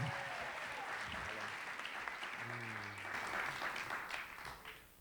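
Live audience at a public testimony gathering cheering and applauding, a dense, steady wash of clapping with scattered shouts and whoops that holds throughout and tapers off at the end.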